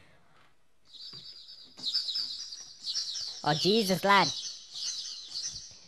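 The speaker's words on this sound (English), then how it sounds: "There's a flock of birds after flying in the window." A flock of birds that has flown in through a window chirps and tweets in a steady, busy twitter close by. Louder chirping calls burst out partway through, and a man exclaims under the birdsong.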